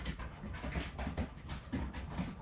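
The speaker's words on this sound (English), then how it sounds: "my two big dogs are literally ricocheting from each other on the wall." Two big dogs play indoors, panting and scuffling close by in quick bursts with soft thumps, no talk.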